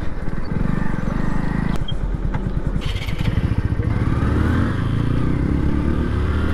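A new TVS Apache RTR 160 4V motorcycle rides along a main road, its engine putting out a steady, close, rumbling drone with clattering pulses and slight revving throughout.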